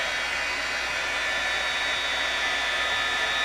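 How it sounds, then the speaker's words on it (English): A handheld heat tool blows hot air over freshly stamped ink on metallic cardstock, giving a steady, loud, even whoosh like a hair dryer with no talking. "But let's pull out our heat tool."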